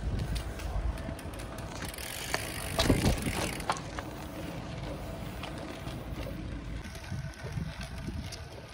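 A bicycle ridden outdoors at a relaxed pace, giving a steady low rolling and mechanical rattle with a brief louder clatter near the start, then an even continuous hum throughout.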